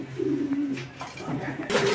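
Colouring golla fancy pigeons coo nearby in soft, throbbing phrases, one early and another later, ending in a brighter rustle of movement.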